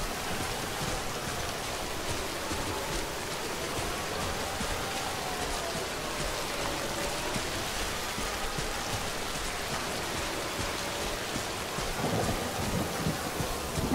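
Rain and rolling thunder from the video game Death Stranding, a dense, steady wash of rainfall with low distant rumbles underneath and no one speaking.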